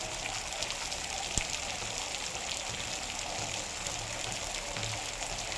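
Rain falls steadily outside a house, a continuous soft hiss of drops and trickling water with one brief knock, moderately faint and without talk.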